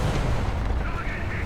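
A Lorraine 155 Mle.50 cannon fires in War Thunder, a loud, deep, sustained boom with rumbling low end that fills the whole short stretch without any break.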